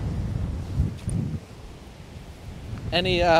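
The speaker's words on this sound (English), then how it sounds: "There goes the wind." Wind gusts rush and buffet the microphone in uneven surges, with a brief electronic warble at the end.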